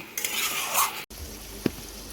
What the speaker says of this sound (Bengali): এবার এটাকে আলুর সাথে মশলা দিয়ে ভালো করে কষিয়ে নেব।